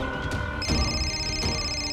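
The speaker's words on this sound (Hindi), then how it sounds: "थैंक गॉड, फोन की घंटी बज रही है।" An electronic phone ringtone plays loudly and steadily, bright repeating tones with no voices.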